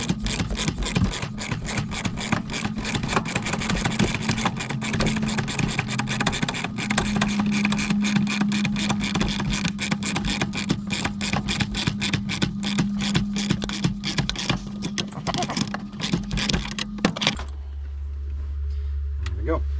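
Fasteners being tightened down on an aircraft autopilot tray, a dense, continuous rasping and ratcheting with rapid clicks for about seventeen seconds, loud and close, then stopping abruptly into quieter low hum.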